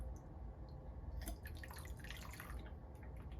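Water rinsing a gold snuffer bottle after panning paydirt, a short close trickle with light dripping and splashing over a steady wet hiss, no voices.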